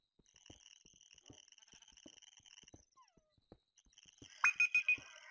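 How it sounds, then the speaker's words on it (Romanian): An alarm rings in a Minecraft hardcore playthrough, with a few loud beeping pulses near the end after a stretch of quiet rhythmic in-game clicks and taps. "Mi-a sunat alarma."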